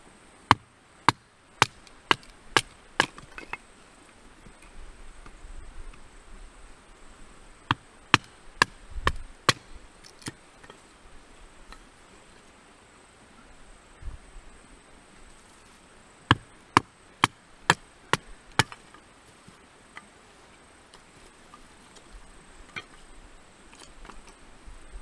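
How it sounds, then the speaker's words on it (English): A bushcraft knife batoning a piece of red gum wood gives sharp, loud cracking knocks in clustered bursts of rapid strikes, separated by quieter pauses of faint rustling. "I'm going to batten this piece of red gum now"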